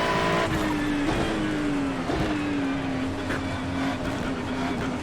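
A Porsche race car engine howls continuously in iRacing, sim racing on a wet track, its pitch climbing and dropping through gear changes as another Porsche presses close behind.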